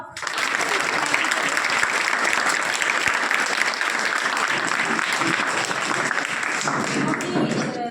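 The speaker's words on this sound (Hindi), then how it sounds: "चलो पहले तो सबको जोर से ताली बजाओ।" A group of children claps loudly and steadily for several seconds at a Women's Day event, a dense, continuous burst of applause with faint voices mixed in.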